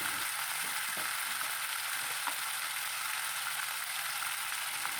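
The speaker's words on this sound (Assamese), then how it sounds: "এতিয়া মাংসখিনি ভালকৈ ফ্ৰাই কৰি ল'ম।" Broiler chicken pieces with turmeric fry in a pan, giving a constant dense sizzle with faint stirring clicks underneath, close and steady throughout without speech.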